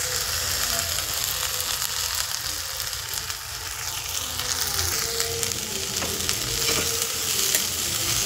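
Okra (bhindi) fries in a pan with a steady, loud sizzle that runs throughout, with occasional stirring scrapes close by and no voices.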